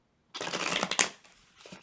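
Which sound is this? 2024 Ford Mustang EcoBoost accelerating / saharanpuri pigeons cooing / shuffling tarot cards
shuffling tarot cards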